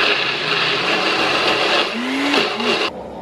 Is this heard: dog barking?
no